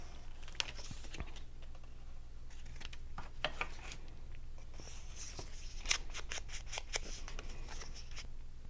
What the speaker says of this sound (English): it's a little bit long, so I'm gonna cut it off before I glue it in